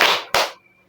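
A group plays a clapping game in a school guidance-counselling session, producing two quick, crisp bursts of hand claps close together, loud and near, then a short quiet tail.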